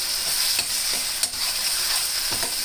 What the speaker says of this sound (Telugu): ఇది ఉడికి ఆయిల్ అంతా మీదకి వచ్చే వరకు ఇలా కలియపెట్టుకుంటూ ఉందాము